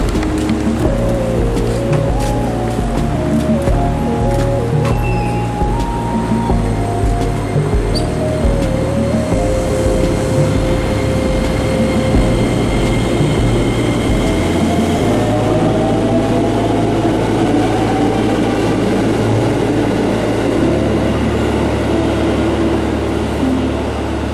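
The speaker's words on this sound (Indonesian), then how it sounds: "saya berpindah naik kereta yang menuju ke arah Pasar Senen" A commuter train heading toward Pasar Senen from the renovated Jatinegara station in Jakarta rolls along, heard from inside as a steady low rumble with shifting motor tones and rail clatter, rising into a continuous whooshing roar about midway.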